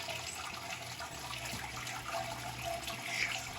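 Liquid drains from an Anvil Foundry brewing system during a Belgian raspberry blonde brew day, a soft continuous trickle and splash close by, quiet and steady with no talk.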